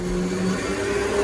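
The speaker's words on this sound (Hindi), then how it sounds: "अब इन सभी मसाले को अच्छी तरीके से पीस लेना है।" Kitchen mixer grinder motor whirring steadily as it grinds roasted peanut and garlic masala in a grinding jar, a loud continuous buzzing drone with a steady hum, alone without talk.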